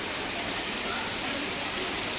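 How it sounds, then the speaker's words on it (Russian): Heavy downpour in Adler, a steady dense hiss of rain falling without pause, fairly soft and even throughout. "У нас опять дождь, даже ливень, я бы сказала."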